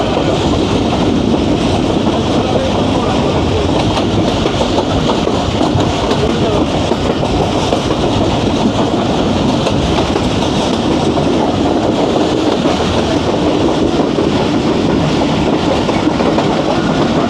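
Jaffar Express passenger train running fast on rails, a steady loud rumble of wheels and carriage noise with faint rhythmic clatter throughout, no voices.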